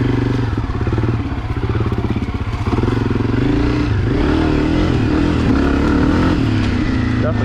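Honda CRF250F dirt bike out on a fall trail ride, its single-cylinder engine chugging and revving up and down close by, with someone talking over the engine.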